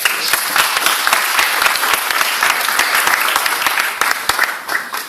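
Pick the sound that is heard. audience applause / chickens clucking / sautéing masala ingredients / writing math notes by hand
audience applause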